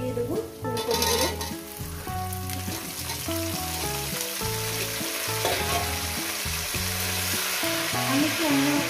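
Cauliflower florets fry in hot oil seasoned with salt and turmeric, a steady close sizzle with clinking utensil and pan sounds over it; tonal musical-looking bands suggest background music running throughout.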